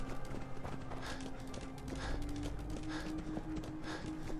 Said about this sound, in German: jogg da mal hin, Albert.